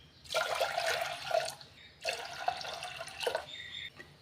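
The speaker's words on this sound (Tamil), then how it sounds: "இதில் மூணு கப் தண்ணி ஆட் பண்ணிக்கோங்க" Water is poured into a cooking pot for rice in two steady, close pours of about a second and a half each, separated by a brief pause, with no talking.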